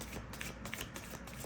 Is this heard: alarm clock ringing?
no